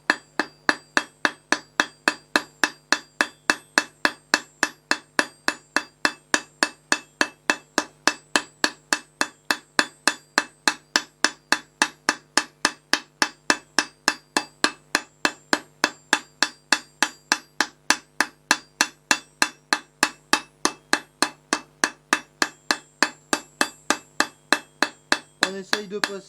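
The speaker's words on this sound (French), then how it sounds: "je vais juste venir texturer ma barre en utilisant la partie boule de mon marteau" The ball peen of a hammer texturing a metal bar for a gate slide-bolt hinge, struck in a long, very regular series of sharp ringing blows, loud and close, roughly two per second, with no talk.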